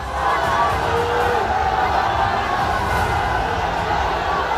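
Angry protest crowd shouting in a dense, continuous roar outside a mosque in Uttar Pradesh after Friday prayers, loud and sustained with overlapping voices and yells throughout.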